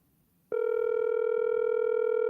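Telephone ringing on an outgoing call during a radio show, a steady electronic tone that starts abruptly after a short quiet moment and holds on continuously, close and clear.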